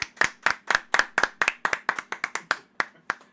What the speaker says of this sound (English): let's give it a round of applause for Chrysanthemum.